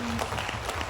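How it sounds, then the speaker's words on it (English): An audience at a symposium claps for a speaker, a brief burst of soft scattered applause at a moderate distance. "give him another big round of applause"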